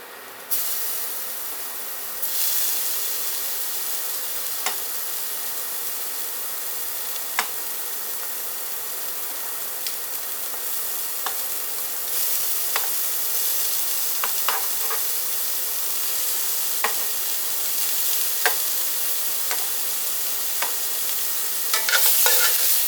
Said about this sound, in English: Let's throw some steak in there and get it brown